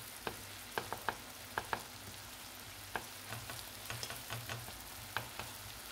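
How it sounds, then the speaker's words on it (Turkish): Eggs with purslane fry in a pan, a faint, steady sizzle under scattered light taps and clicks as the mixture is stirred and broken up, close and quiet, no talking. "Yumurtaları tam pişmiş sevdiğimiz için hafif dağıtmak istiyorum."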